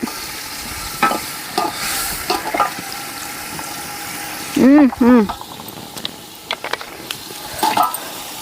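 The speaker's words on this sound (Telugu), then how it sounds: "అర్ధ కిలో టమోటాలు అండి బాగా వేసుకుందాం అవి కాసేపు మగ్గని" Half a kilo of tomatoes sizzling and being stirred in a pan for chicken biryani, with scraping clinks throughout and a brief whistle-like tone in the middle.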